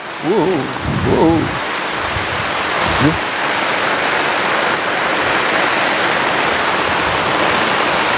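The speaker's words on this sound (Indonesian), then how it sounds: "Hujan angin ya" Heavy rain pours steadily outdoors with wind, a dense continuous hiss that fills the whole stretch, while a few brief voices break in near the start.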